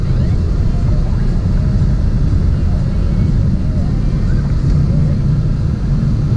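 A 2017 Ford Mustang EcoBoost Premium in sport mode heading onto a highway, its engine and road noise forming a steady loud drone from inside the cabin, with a voice talking over it.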